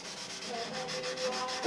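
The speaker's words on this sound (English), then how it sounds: "I'm sanding out this last coat of silver we just put on here" Steady abrasive rubbing of sandpaper over a fresh coat of silver paint finish, continuous and close, with a brief louder scrape at the end.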